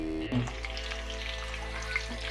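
Mutton chops with cardamom frying in a pan, a steady low sizzle with faint crackles, close and alone, with a brief clatter near the start.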